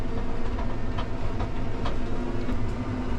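A tracked truck climbs a big muddy hill in reverse, hauling a full load of trees, its engine and tracks making a loud, steady low rumble with faint rhythmic clanks throughout.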